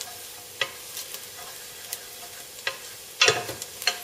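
Pumpkin and chickpeas are stirred and coated in a hot pan, giving a quiet sizzle broken by scattered scraping clicks of a utensil against the pan.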